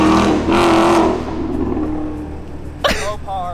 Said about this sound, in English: Now I went to go start the car this time